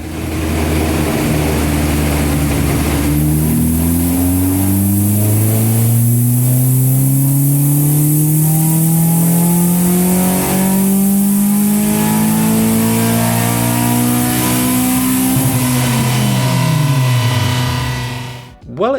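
A Caterham 420R engine revs hard and long on a dyno, its pitch climbing steadily for about fifteen seconds before dropping off sharply, loud and close.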